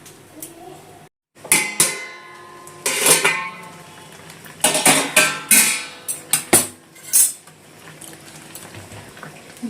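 Metal clatter of a lid set onto a pot of dal and vegetables cooking on a gas stove at medium flame, with several sharp clinks and knocks scattered between quieter kitchen noise.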